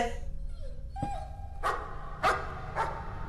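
A dog in the horror game Layers of Fear gives a thin whine and then a series of three or four spaced, echoing barks, fairly close and loud, with no talking.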